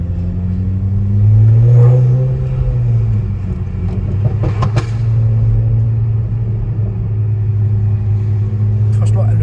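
A modified Audi A5 idles with a deep rumble, then revs briefly and settles back into a steady low drone. People talk over the engine throughout.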